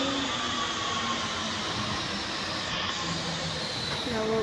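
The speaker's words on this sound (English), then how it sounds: "The train is coming now." An airport train pulls in at a terminal, a steady broadband rumble and hiss filling the whole stretch at close range with faint tonal hums, holding loud and even throughout.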